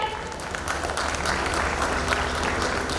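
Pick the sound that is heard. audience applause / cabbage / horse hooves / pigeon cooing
audience applause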